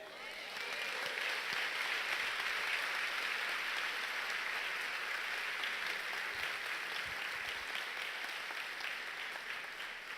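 A church congregation applauds, a dense, loud and even wash of many hands clapping that holds steady for about ten seconds with no clear voices on top.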